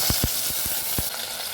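Blended onion, garlic and ginger paste frying in hot oil with cauliflower, a loud continuous sizzle broken by a few sharp stirring scrapes at an uneven rhythm, close up with no talking.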